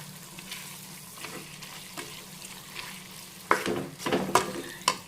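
Prawns and eggs sizzle softly in a pan for a curry as chili powder is stirred in, with a gentle frying hiss and louder spoon scrapes and clatters in the latter half.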